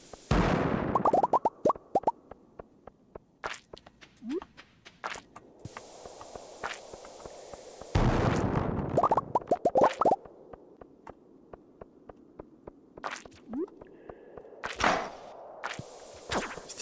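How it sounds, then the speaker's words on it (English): Bombs blast in the mines of the farming game Stardew Valley: three loud, sharp bursts roughly seconds apart, each followed by scattered pops, clicks and light game effects between them. "Three bombs into this level."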